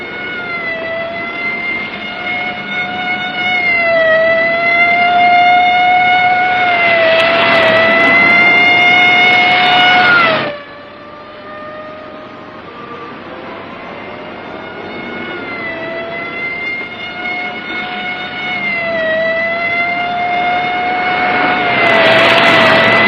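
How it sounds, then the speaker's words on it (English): A 1950s police car siren wails loudly and steadily during a chase, its howling tone dipping and rising slightly, with engine roar swelling underneath and no talking. "Lay on the siren. Give it everything."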